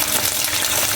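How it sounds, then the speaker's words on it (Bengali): Eggplant, beans and potato spit and sizzle in a hot oiled pan for a vegetarian spinach recipe. A brief, close, even burst of crackling frying with no speech. "এবার একে একে সব সবজিগুলো দিয়ে ভেজে নেব।"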